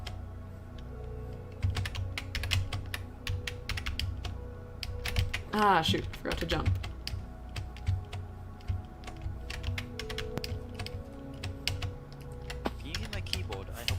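Rapid keyboard clicking runs steadily through a live video game session, close and fairly loud, with someone talking over it in short bursts.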